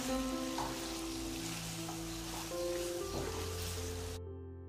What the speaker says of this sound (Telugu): ఇప్పుడు మళ్ళీ మనం బాగా కలిపేసుకొని అడుగు పట్టకుండా అటు ఇటు కలుపుకోవాలి